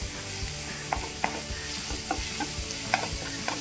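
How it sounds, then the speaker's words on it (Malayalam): Chicken filling with turmeric and spice powder being stirred in a pan, with a spoon scraping and clicking irregularly against the metal over a soft sizzle. "ഇത്രയും കൂടി ഇട്ട് നന്നായിട്ട് നമുക്കൊന്ന് മിക്സ് ചെയ്തെടുക്കാം."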